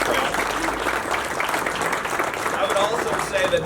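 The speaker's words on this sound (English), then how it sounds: "So just a round of applause and appreciation for Doug Kratz." A crowd at an outdoor hotel ribbon cutting claps for a guest, a steady mass of applause with voices and cheers mixed through it.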